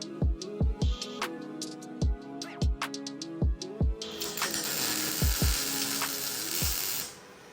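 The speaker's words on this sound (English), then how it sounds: "now, we're ready to weld" Welding an O2 sensor bung onto a truck exhaust: a series of sharp crackling pops and clicks in the first half, then a steady loud hiss and sizzle of the arc for about three seconds before it stops.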